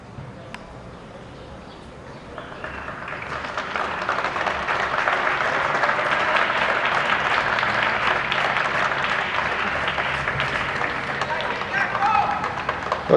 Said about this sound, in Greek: Το χειροκρότημα από την εξέδρα.